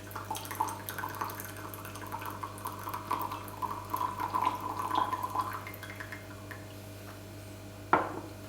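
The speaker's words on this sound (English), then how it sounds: "then immediately" Water streams and trickles steadily from a hohin teapot for several seconds, tapering off, followed by a single sharp clink of ceramic near the end.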